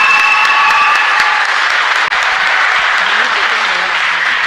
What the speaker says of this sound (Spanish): Entonces, San Miguel, un fuerte aplauso.